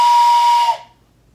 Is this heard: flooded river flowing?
no